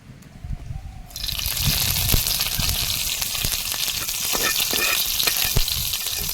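Neem leaves hit a little hot oil in a pan and break into loud, continuous sizzling and crackling, preceded by a short quieter stretch of stirring and handling.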